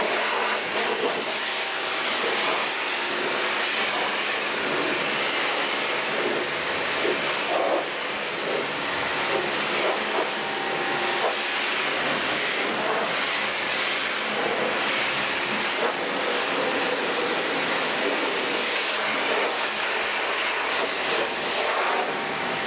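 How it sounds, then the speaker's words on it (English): Water spray rinses a car's exterior during deep-cleaning detailing, washing off iron remover; a steady, close hiss of spraying and splashing water runs continuously without pause. "Be really thorough when you're rinsing off this iron."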